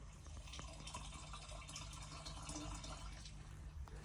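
Treated water trickling out of a septic treatment system into a holding tank, a steady low gurgle and drip heard up close, with no talk over it.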